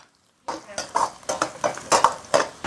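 After a brief silence, a spatula scrapes and tosses minced meat in a wok with a little oil over low heat, in rhythmic strokes, with a light sizzle beneath.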